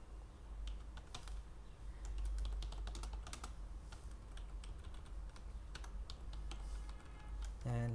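Steady typing of C# code on a computer keyboard, with bursts of close, crisp key clicks and a louder keystroke near the end, over a low background hum.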